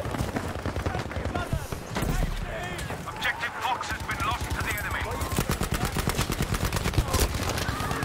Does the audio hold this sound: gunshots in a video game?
yes